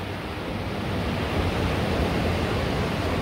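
Continuous wash of sea waves breaking on a shore at sunset, a dense, steady roar that swells slightly, loud and close with no voices.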